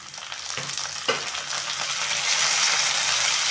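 Tomato frying in oil in a pan for a dry legume curry, a close steady sizzle with a couple of soft stirring taps early on that swells slightly louder toward the end, no talk.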